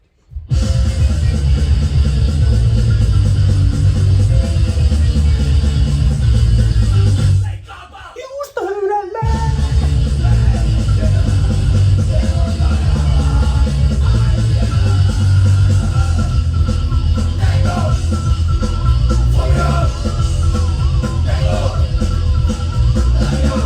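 Loud rock song played from a vinyl record's live-recorded B side, with shouted group vocals over a dense full-band roar, briefly dropping out around the middle before surging back.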